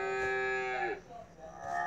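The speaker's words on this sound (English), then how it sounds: "Cows!" Cattle mooing nearby, one long, loud, drawn-out moo that falls in pitch, followed by a softer second call starting at the end.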